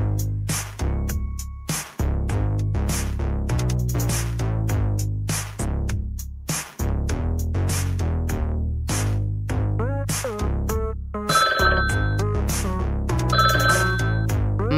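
A telephone rings insistently in the Fredinas Nightclub horror video game, a loud electronic ringtone with a repeating melodic pattern over steady thumping beats, running continuously for about fifteen seconds with no talking.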